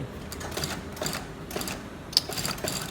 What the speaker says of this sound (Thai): เย็บลงมาด้านหลังนะฮะ